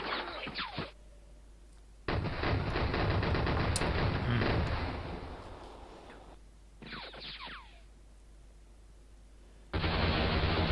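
Defensive musket volleys crackle in the Civil War strategy game Battleground: Antietam, with loud sustained bursts of gunfire broken by short quiet gaps, then another burst at the end.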